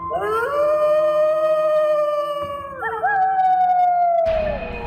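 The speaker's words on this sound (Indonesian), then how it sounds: "Terdengar dari kejauhan lolongan anjing bersahutan, menanti apa yang akan terjadi di malam itu." Dogs howl together at night, one long sustained wailing howl gliding slowly downward while other voices waver above it. It ends with a sudden burst of noise.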